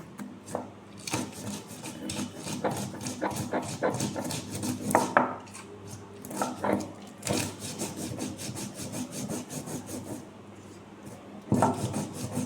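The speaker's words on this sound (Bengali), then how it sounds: "আমি বেটে নিচ্ছি পোস্ত আর লঙ্কা আর সর্ষে একসাথে বেটে নিচ্ছি" Poppy seeds, chilli and mustard ground together on a grinding stone, with rhythmic rubbing and scraping strokes of stone on stone, close and moderately quiet, alternating with brief pauses.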